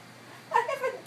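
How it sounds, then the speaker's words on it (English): A cat gives a single short meow, fairly close and clear over a quiet background. "I haven't done anything to you, you silly kitty."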